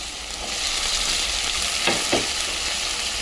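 Steady loud sizzling of potatoes frying in a pan, a continuous hiss with a couple of brief stirring scrapes near the middle.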